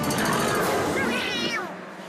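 A voice mimics a cat's meow in a French Garfield cartoon, one drawn-out wavering call that is loud and close and then fades at the end.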